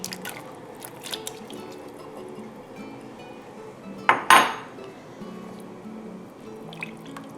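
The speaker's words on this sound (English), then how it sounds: "I'm going to gently place the potatoes down in there so that I don't splash." Potatoes set gently into a pot of Italian potato soup, giving a soft wet plop and brief splash with a clink against the pot, amid faint kitchen sounds.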